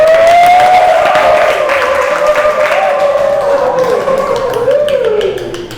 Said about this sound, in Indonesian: berikan aplaus dulu untuk kelompok 4